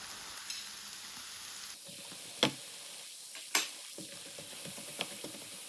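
An omelette with thinly sliced green and red peppers sizzles faintly in a pan, a steady low frying hiss broken by a few sharp clicks of utensils.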